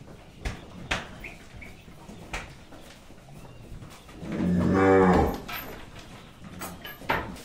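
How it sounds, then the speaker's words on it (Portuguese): Cattle on a small farm, including a large ox and a herd of cows, with one loud, drawn-out moo in the middle and scattered knocks and rustles before and after. "Aí, ó, que boizão bom, hein? Aí, ó, a vacada aí, ó."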